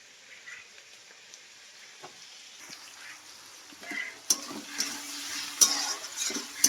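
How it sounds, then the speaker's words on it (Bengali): Onions frying in oil in a wok, a soft steady sizzle that builds as a utensil stirs and scrapes, with sharper clinks and knocks toward the end; fairly close and moderately loud, no talking. "পেঁয়াজগুলোকে দেখো কড়াইতে তেল দিয়ে আর এই যে বসিয়ে দিয়েছি। পেঁয়াজগুলোকে একটু ভাজা ভাজা করে নেব।"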